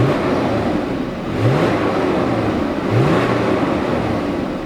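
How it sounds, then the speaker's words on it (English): A Volkswagen Passat V6 4Motion with stock mufflers revs steadily at close range, its engine note rising in two short swells over a continuous idle drone, with no voices. "Give her a couple of revs here so she sounds."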